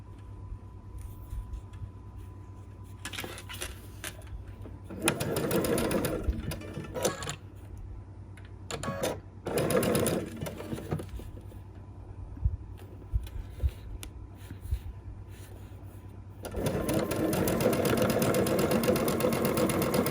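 Stitching a Tula Pink butterfly quilt block, a sewing machine hums in several separate bursts of differing length, with quieter handling and fabric rustle between runs and a longer final stretch of steady stitching.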